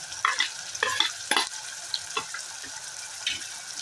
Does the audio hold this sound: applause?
no